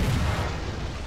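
A single heavy tank cannon blast from War Thunder, fired from a T28 super heavy tank, a deep booming report filling the whole second with low rumble and no talk.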